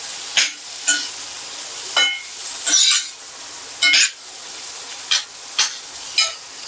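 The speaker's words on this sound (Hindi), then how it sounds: "इसके अंदर मैंने सब्जियां ऐड कर दी है। इसे हमें हल्का सा सौते करना है।" Vegetables sauté in garlic butter in a pan, with a constant sizzle broken by repeated scraping and clinking strokes of a spatula against the pan, close and fairly loud, with no talking.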